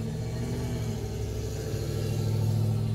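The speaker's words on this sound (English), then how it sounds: "That's a loud truck." A loud truck passes close by with a steady low engine rumble that builds slightly toward the end, heard alone without talk.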